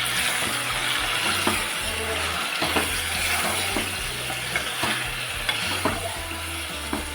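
A marinated curry mixture for a tangy, spicy Maharashtrian rassa is stirred in a sizzling pan, with uneven scrapes and clinks of the spoon over a steady fry, and no voices heard.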